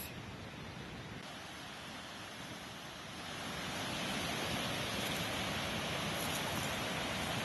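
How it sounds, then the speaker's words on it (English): Indian Creek flows in a snowy winter landscape, a dense continuous rush of water that grows louder and fuller partway through, with no voices. "And now I will show you the beautiful stream again."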